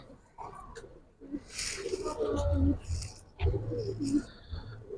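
A stout-bodied Giribaj pigeon coos in short, throaty bursts that come close by and in uneven rhythm, mixed with rustling and scattered sharper chirps.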